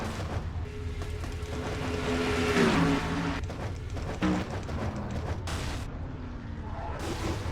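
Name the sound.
race cars crashing in a NASCAR-style racing video game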